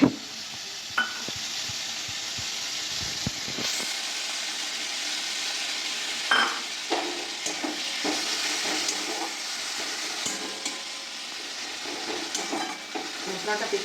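Cumin and turmeric paste sizzles in hot oil with fried tomato as a spoon stirs it, a steady frying hiss broken by scraping and clinks, close and moderately loud with no speech.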